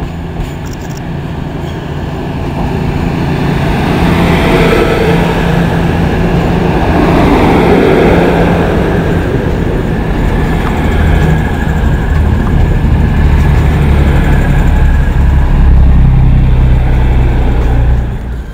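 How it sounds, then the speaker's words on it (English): East Midlands Trains class 222 unit 222009 pulls out of a station on a London St Pancras to Sheffield service with a loud, building diesel roar and rolling rail noise close by, holding strong before easing. "Just now leaving the 1535 East Midlands train from London St Pancras to Sheffield."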